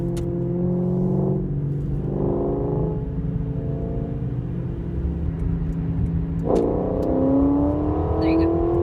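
A 1995 Mustang Cobra with a pushrod 5.0 V8 and Magnaflow exhaust rumbles steadily at idle, then revs sharply in two quick blips early and a longer rising rev near the end, heard moderately close.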